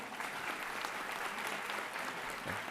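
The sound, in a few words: applause for graduates at a ceremony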